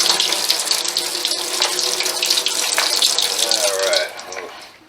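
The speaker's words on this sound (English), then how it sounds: "I'm going to rinse them now." Tap water running into a sink to rinse soaked almonds: a steady loud splashing stream that eases off near the end, with a voice faintly underneath.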